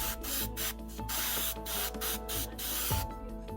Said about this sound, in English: I'll be using Tamiya's flat green. This is the base coat, and I make sure to evenly spray each and every single leaf in this color.